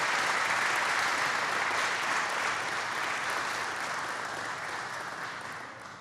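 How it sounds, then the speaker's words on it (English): A large crowd applauds the governor at a presidential event on an infrastructure deal, steady dense clapping that holds throughout and slowly fades toward the end, with no talk over it. "Let's give the governor another great round of applause."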